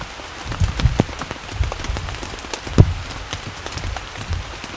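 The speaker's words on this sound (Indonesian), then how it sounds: "Hujan masih turun kencang banget" Steady heavy rain patters down in a bamboo forest campsite with irregular louder drops and thuds against a surface, no talking.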